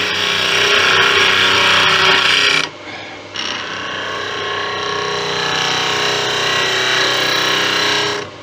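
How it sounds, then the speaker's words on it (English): Detail gouge cutting a teak Christmas tree on a wood lathe, giving a steady close scraping hiss over the motor's hum that cuts out briefly near the three-second mark and then resumes for the rest. "I like having wings on a detail gouge, because I can actually use a wing to cut in here"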